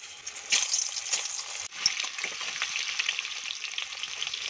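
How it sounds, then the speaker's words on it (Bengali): Potatoes drop into hot oil in a wok and fry with a steady crackling sizzle, a few sharper pops and stirring scrapes breaking through the even hiss. "তেল গরম হয়ে গেছে, এবার আমি আলুগুলো ছেড়ে ভেজে দেব।"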